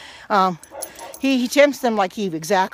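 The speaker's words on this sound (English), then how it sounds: "Sorry about the dogs barking." Dogs bark and yip intermittently somewhere outdoors on a day in Oregon, partly under someone speaking steadily.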